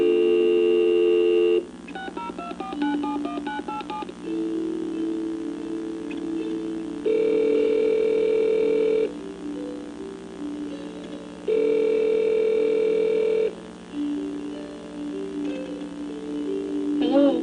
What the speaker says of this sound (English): move it over to the dialer application, which will give us the opportunity to dial that telephone number